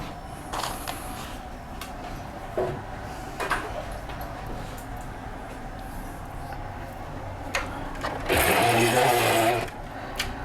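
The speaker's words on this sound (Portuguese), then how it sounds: "Última costura da parte de cima." A sewing machine stitching the final top seam of a towel: soft mechanical whirring and clicks through the clip, ending in a loud, close, sustained stitching run near the end.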